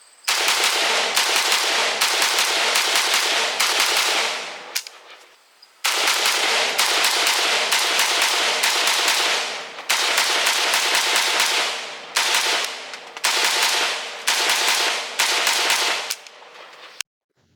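A Galil Ace Gen 2 7.62x39 rifle fires long, very loud bursts of rapid shots at close range, broken by short pauses, in several strings.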